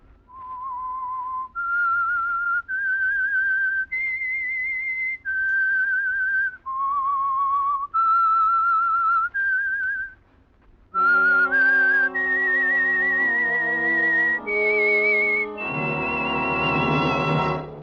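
A clear, melodic whistled tune from the 1948 radio drama The Whistler, sustained, wavering notes stepping up and down, close and solo, ending with a brighter, fuller final phrase.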